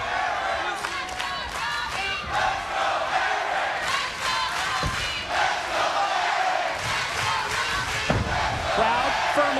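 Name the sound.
wrestling crowd cheering in support of the champion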